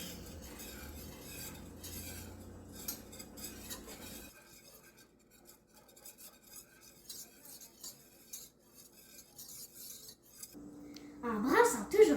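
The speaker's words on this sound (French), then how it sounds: "En brassant toujours avec le fouet," A whisk scraping and clinking against a pot while stirring flour-and-water paste, busy metallic stirring at first, then quieter scattered taps, ending with a louder rattle.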